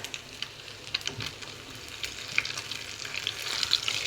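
Potato pancakes (deruny) frying in a pan of oil, with a steady close sizzle and crackle and scattered sharp pops throughout, no voices.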